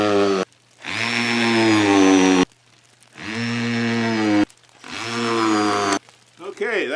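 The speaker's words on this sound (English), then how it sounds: "We'll go ahead and screw down this diagonal. Put a couple more screws in each one of those cross pieces." Power drill driving screws into wooden cross pieces and a diagonal brace on a pole woodshed frame, three sustained whining bursts of about one to two seconds each with short pauses between, loud and close.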